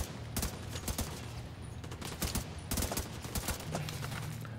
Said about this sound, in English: For an M4, this has pretty bad recoil.